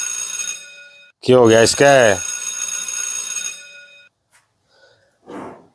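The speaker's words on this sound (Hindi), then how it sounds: "फोन किसका बाज गया" A phone rings with a loud, steady electronic tone for a few seconds, and someone briefly speaks over it.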